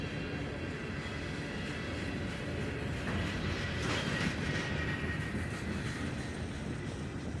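A freight train rolls past a Kentucky crossing with a continuous heavy rumble and hiss that swells a little in the middle, near and steady throughout, with no voices.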